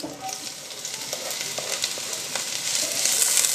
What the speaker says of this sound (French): J'ai émincé l'oignon que je vais faire rissoler.